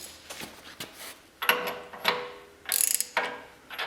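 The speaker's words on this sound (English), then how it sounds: "Just gonna snug them up with a wrench." A ratcheting wrench snugs up bolts on the front axle of an '80 Chevy truck, giving a handful of sharp, close clicking strokes spaced irregularly over a few seconds.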